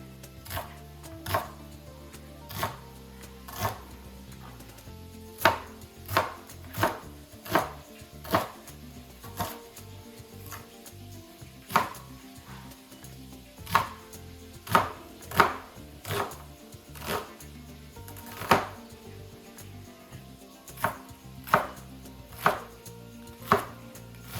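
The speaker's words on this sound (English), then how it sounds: "So I'm going to chop these up and then cook them some with the ground beef" A knife chops onions on a board while prepping them to cook with ground beef for a budget crock pot dinner: a long series of sharp, close chops in an uneven but steady rhythm, with no voices.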